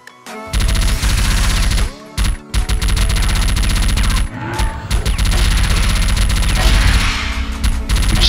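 A Gatling gun in CrossFire West fires loud, rapid sustained bursts, with a couple of short pauses before the rattling fire resumes and runs on to the end.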